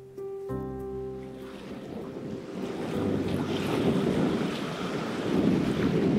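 Strong wind buffets the microphone in gusts on Crete in late autumn, a roaring rush that grows louder over several seconds, with a tonal hum fading at the start.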